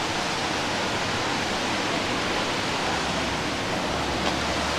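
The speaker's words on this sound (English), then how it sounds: "Waterfall's getting louder." A waterfall rushes steadily at a lake park, a dense, unbroken roar of water filling the whole stretch without pause, fairly close and with no voices over it.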